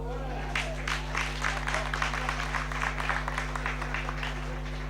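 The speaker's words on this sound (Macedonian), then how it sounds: "Миленик на домашната публика, разбирливо, па и заслужува аплаузи за еден ваков обид." Home crowd applauding a shot attempt at a Milano versus Slaven Belupo UEFA Europa League qualifier football match, a broad wash of clapping rising in waves over a steady low stadium hum.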